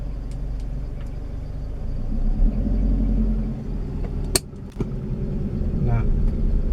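A manual car's engine rumbles and revs as it pulls away uphill in stop-and-go traffic, steady and close, with a couple of sharp clicks and someone talking over it.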